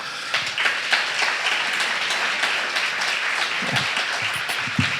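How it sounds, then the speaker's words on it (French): A church congregation applauds a newly baptized woman, steady crowded clapping with some closer distinct claps and faint murmur underneath, holding level throughout. "on peut l'applaudir"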